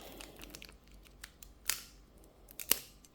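A Pokémon card booster pack is torn open: a few soft crinkles and rustles lead up to two sharp, close ripping snaps of foil wrapper, otherwise quiet with no talking.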